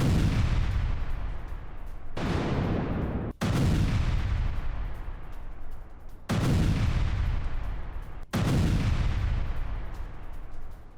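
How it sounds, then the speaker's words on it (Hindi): Artillery fire in a Ukrainian bombardment of Russian positions, five heavy booming blasts at irregular intervals, each with a long rumbling decay, loud and alone. "यूक्रेनी बमबारी में रूसी ठिकाने कैसे तबाह हुए उसकी तस्वीर अब आपके सामने होगी"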